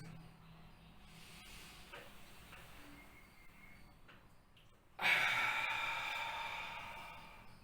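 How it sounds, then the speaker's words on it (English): A long, slow breath pushed out through the mouth during a post-COVID breathing exercise. It comes as a sudden, fairly loud breathy rush that fades gradually over a few seconds after a quiet stretch. "slowly exhale through the mouth"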